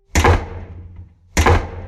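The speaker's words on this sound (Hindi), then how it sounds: "राघवान ने बिना समय गवाए दरवाजा तोड़ दिया।" A door is broken down as a sound effect: two loud, heavy wooden thuds about a second apart, each with a booming impact and a short fading rumble, with no voices.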